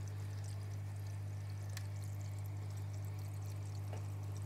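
Water from a hang-on backpack filter on an aquarium pours and trickles steadily at reduced, throttled flow, a constant soft splashing over a strong low electrical hum, with no talking.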